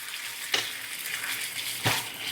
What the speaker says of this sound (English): Now we're gonna throw in some sauce and just heat up the sauce.